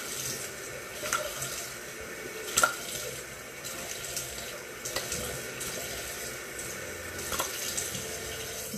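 Tap water runs steadily into a bathroom sink while someone rinses skincare product off their face, a continuous close splashing stream with a few louder splashes and no talk.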